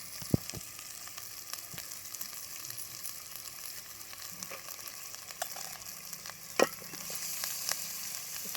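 Chicken pieces fry in a pan with ginger and turmeric for a village-style curry. A steady close sizzle and hiss runs throughout, with scattered sharp crackles and a louder pop near the end.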